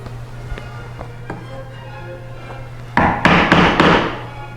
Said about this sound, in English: I'm just putting the chisel in the marking gauge groove that we put on in the beginning.